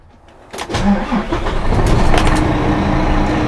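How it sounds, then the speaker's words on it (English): A lorry's engine starts up close by: quiet at first, then a sharp crank catches about half a second in, settling into a loud, steady rumbling idle. "check the mirrors and the blind spots, and we'll fire the engine up"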